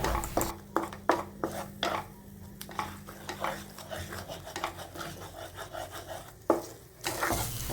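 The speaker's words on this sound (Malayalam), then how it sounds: "ഇനി നമുക്കിതെല്ലാം കൂടി ഇളക്കിയിട്ട് നന്നായിട്ടൊന്ന് വറുത്തെടുക്കാം" A pan of tomato rice with onion being stirred and fried, with repeated sharp scrapes and clinks of a utensil against the pan over a low sizzle, close and moderately loud.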